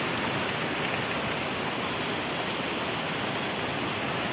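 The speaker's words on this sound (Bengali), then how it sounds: "ভালো লাগতেছে বৃষ্টিতে।" Steady rain falls continuously, a dense, even hiss of drops with no breaks or voices over it.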